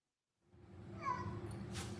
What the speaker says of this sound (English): And you can hear her meow too when she sees whatever she sees.